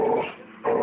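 A pit bull growls at dog sounds on a television, a low rumbling growl that fades midway and then surges back loud and close.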